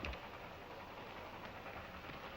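A train rumbles steadily past at a bend, a continuous broad mechanical roar with no voices, fairly faint overall.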